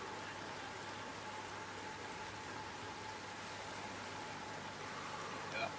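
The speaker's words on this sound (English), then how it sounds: "Rain is falling on the Tour de France roads." Steady, even hiss of rain falling on the roads in the Tour de France video game, quiet and continuous throughout with no voices.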